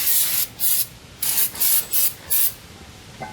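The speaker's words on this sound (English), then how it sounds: "You see me constantly always spraying." Aerosol brake cleaner hissing in five short bursts of varying length on a 2010 Toyota Corolla drum brake, close and loud, with brief pauses of quiet between them.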